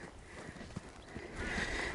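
A horse's hooves clop softly on the ground in a few uneven steps as it slows to a halt under a rider, near and fairly quiet with steady background noise.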